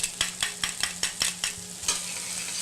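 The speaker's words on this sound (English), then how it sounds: "we'll give it a quick saute for about 1 minute to give them some time to get nice and fragrant" Green onions and garlic sautéing in a pan for a sausage and cheese tortellini dish, giving a steady soft sizzle broken by a regular series of sharp stirring scrapes, all close by with no talk.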